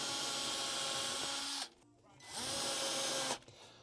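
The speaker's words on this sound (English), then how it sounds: "To drill my holes, I'm using an 1/8 inch bit" A power drill fitted with a 1/8 inch bit bores holes, whining loudly in two close bursts separated by a brief drop to a quiet low hum as the motor winds down and restarts.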